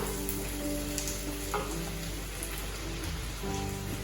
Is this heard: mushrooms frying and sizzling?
yes